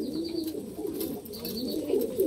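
Pigeons coo nearby in soft, repeated low throaty calls that overlap one another, with faint rustling in the background.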